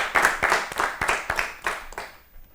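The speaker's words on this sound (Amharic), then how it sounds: "አጨብጭቡላት በደንብ" A studio audience at a children's quiz show on Ethiopian TV claps in a quick, uneven burst of many hands, loud and close at first and thinning out toward the end.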